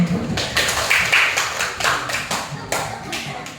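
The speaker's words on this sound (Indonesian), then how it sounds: "Oke, tepuk tangan." A class of students clapping in a classroom, a series of sharp, somewhat uneven claps from a small group, with voices mixed in.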